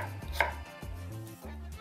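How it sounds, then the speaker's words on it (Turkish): A knife chops potatoes into thick pieces on a board for an oven-baked meatball türlü, about four firm, evenly spaced thuds, close and alone. "Patateslerimi de aynı şekilde birazcık kalın doğruyorum."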